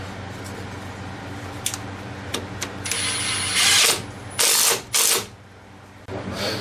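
A hand ratchet tightens a 13mm bolt on a brake hose bracket of a Chevy Silverado K2500 during ball joint work, giving a few quiet clicks followed by three louder, close bursts of rapid ratcheting.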